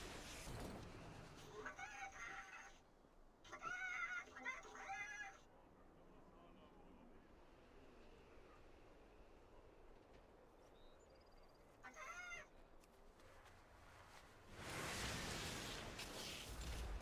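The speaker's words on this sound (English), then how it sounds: "Here we go, some more chickens." Chickens cluck and squawk in a video game, several short bursts of clucking spaced across the stretch amid quiet background ambience.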